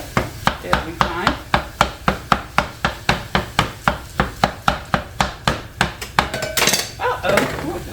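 Turkey sausage being chopped in a pan with a utensil, a steady fast run of about twenty sharp metallic knocks, close and loud, turning to a looser scraping clatter near the end.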